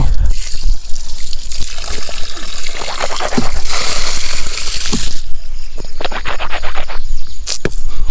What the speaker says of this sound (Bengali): যে চলে আসলো পানি।